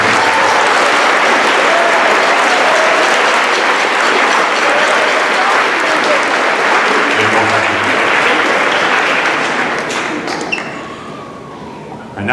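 Sustained applause from a school band concert audience honoring students, a dense steady wash of clapping that runs loud for about ten seconds before tapering off near the end.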